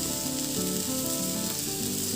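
Onions fry loudly in a pan while tomatoes go in for Assamese restaurant-style matar paneer, a steady close sizzle with some stirring clatter and no talk.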